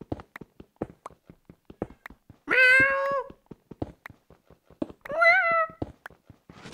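Playing Minecraft, a person imitates a cat, giving two drawn-out meows a few seconds apart over rapid, steady clicking and tapping.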